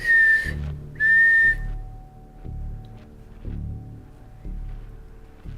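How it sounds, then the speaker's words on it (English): Two clear, high whistles, each about half a second, sound close by, followed by quieter low murmuring and faint knocks. "That was two whistles, like yeah."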